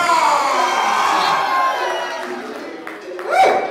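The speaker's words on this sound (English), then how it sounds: "Everybody start clapping your hands. Everybody start screaming and cheering." A comedy club audience cheers, screams and claps, a dense roar of crowd noise that swells again near the end with a voice calling out over it.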